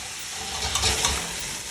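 Steak Diane pan sauce flaming up over a fire: a steady broadband sizzle and hiss, swelling briefly into a louder whooshing flare near the middle before settling back to a constant frying roar, with no voices.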